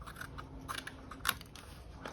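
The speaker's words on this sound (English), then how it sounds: "And now we'll cut the edges." Scissors trimming the edges of a handmade journal cover, a handful of quiet, close, crisp snips with one sharper cut near the end, alone in a still room.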